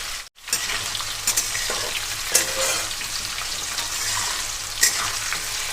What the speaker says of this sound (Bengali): গ্যাসটা মিডিয়ামে রেখে এক মিনিট পর্যন্ত আমি আলুগুলোকে এখানে একটু ভেজে নেব